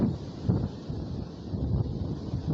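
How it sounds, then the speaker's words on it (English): Wind buffets an outdoor microphone in an uneven low rumble that swells and fades throughout, fairly loud, with no other clear sounds. "yikes, that's windy."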